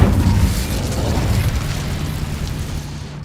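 The Incendio fire spell is cast in the video game Hogwarts Legacy. A loud fiery burst with a deep rumble opens the clip and slowly fades into a crackling roar.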